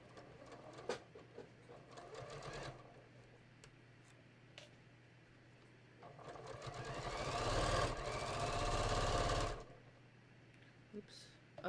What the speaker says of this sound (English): I'm not sewing on the binding itself, I'm sewing on the shirt fabric.